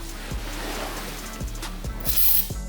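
Spray lubricant hisses steadily onto the hardware of a three-piece SSR Minerva wheel during a rebuild. Light clicks and knocks sound under the hiss, which swells briefly near the end.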